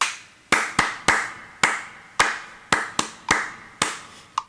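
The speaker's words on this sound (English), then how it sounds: "I clearly came in a little early with that clap there." About ten sharp single hand claps, recorded and played back, each close and crisp with a short decaying tail, spaced irregularly over a few seconds with quiet gaps between them.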